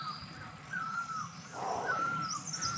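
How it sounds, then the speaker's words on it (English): Birds call from the roadside trees around a cyclist riding through damp, chilly countryside near Chiang Mai, Thailand, with crow-like caws and whistled notes rising over steady low road and tyre noise. "can you hear all the birds?"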